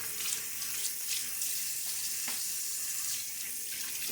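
Water runs steadily from a tap in a sink while shaving lather is built, a continuous close hiss and splash with faint clinks from handling.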